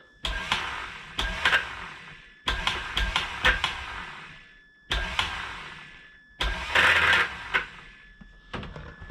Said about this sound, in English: our starter motor looks like it needs some work